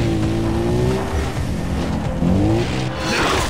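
A car engine drones and shifts pitch as it is driven in the video game Far Cry 3, with tires squealing briefly near the end, loud and continuous.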